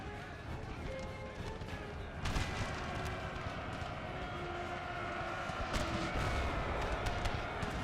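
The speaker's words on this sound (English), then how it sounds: "Let's stop my cannon firing." Cannon artillery fires in a battle video game, booming blasts set against a constant din of combat noise and a siren-like tone, with a voice talking over it.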